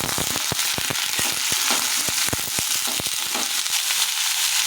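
Vegetables dropped onto fried onions in a hot pan, a loud, dense close-up sizzle with rapid crackling pops throughout.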